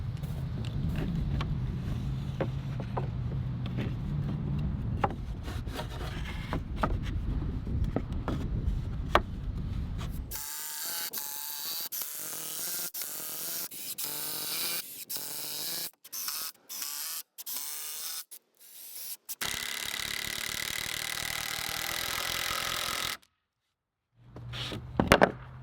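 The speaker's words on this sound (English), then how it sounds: "I'm cutting some of the scrap wood into 6-inch blocks" Power saw cutting scrap wood into 6-inch blocks for a garden workbench: a long steady motor whine, then a series of choppy cuts with short gaps and a brief pause near the end.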